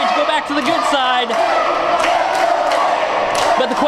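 A wrestling crowd at a UWC event roars and cheers loudly and steadily, with whoops and shouts layered over a dense wall of voices.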